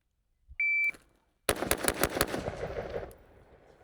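A shot timer beeps, then a custom LMT Defender 2000 rifle fires five rapid rounds in quick succession at an outdoor range, loud and close, with ringing echoes trailing off afterward.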